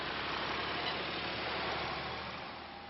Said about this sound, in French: Quant au repas, ils arrivent en tracteur